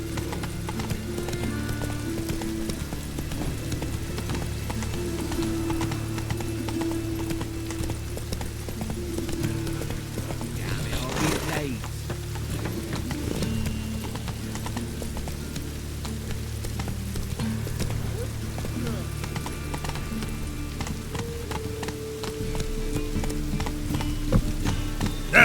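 Horse hooves in The Witcher 3 video game, a steady rapid clip-clop of galloping that runs the whole way through, with a brief whinny in the middle and game ambience underneath.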